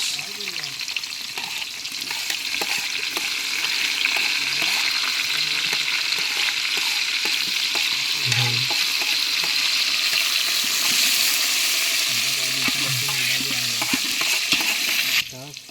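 Garlic fries in hot oil in a large pot for chicken biryani, a loud, steady sizzle with constant stirring scrapes and clanks, close by, with occasional faint voices in the background.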